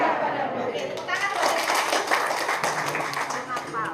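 Teachers at a training session clap together in a sustained patter while voices chatter underneath.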